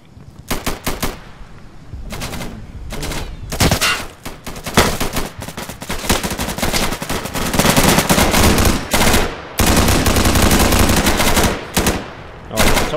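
Automatic gunfire in the video game Insurgency rattles in loud, rapid bursts separated by short gaps, close and dominant for the whole stretch.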